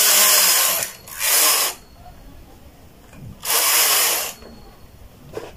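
Knitting machine carriage pushed across to knit rows on a poncho/throw with a ribbed neck cowl: two loud, harsh whirring swipes about a second long each, separated by quiet, close and alone.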